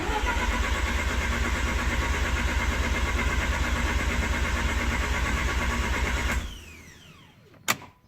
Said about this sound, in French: accélérateur à fond pour une dizaine de secondes de démarreur.